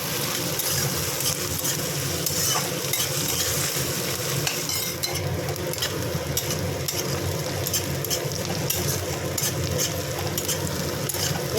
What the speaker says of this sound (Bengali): পেঁয়াজ আর কাঁচা লঙ্কা দিয়ে দিলাম, এগুলো একটু ভাজা ভাজা করে নিয়ে